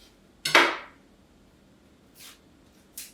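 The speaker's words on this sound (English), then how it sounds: "Let's get rid of the crappy ends of the onion and the skin bits." A knife chops the end off an onion on a board, one sharp close thud followed by two fainter, shorter cuts.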